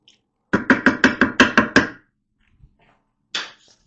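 Macaroni and seasonings stirred in a Ninja Foodi pot: seven quick, evenly spaced scraping knocks of a spoon, close and fairly loud, then a pause and one more scrape.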